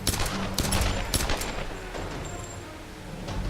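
Rapid bursts of pistol gunfire in the Tomb Raider video game, several close shots in a quick fusillade early on, then trailing off to quieter game ambience with no one talking.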